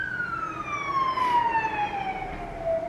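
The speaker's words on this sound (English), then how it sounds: "No, it's a police car." A police car siren wails in a slow descending tone, passing at moderate distance over faint road noise, clear and alone without any voices.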